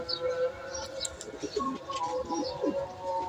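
A newly acquired male domestic pigeon coos softly in a loft, low repeated calls over steady background hum.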